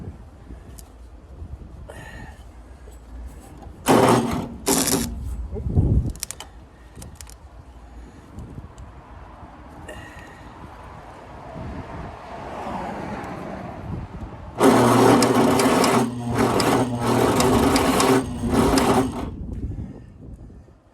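A Yazoo riding mower engine cranks on a dead battery boosted by a charger. There is a short burst of sluggish, churning cranking, then a quieter pause with small mechanical clicks, then a longer, louder cranking run of about five seconds that stops without the engine catching.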